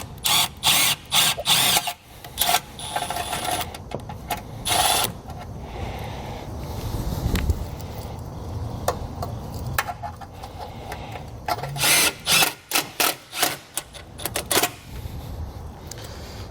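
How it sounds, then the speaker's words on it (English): A power drill drives self-tapping screws to make pilot holes, running in short whirring bursts with pauses, then a longer steady grinding stretch as the screw bites in before more quick stop-start spins. "I'm going to go ahead and drill the holes partially through with our self-tapping screws"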